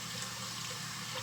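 Tap water runs steadily over tripe being rinsed, a continuous close splashing hiss with no break and no voices.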